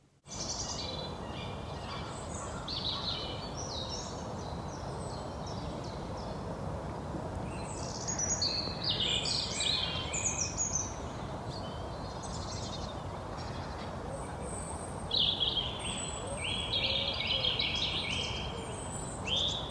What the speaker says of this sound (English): Wasn't it wonderful to hear those birds singing?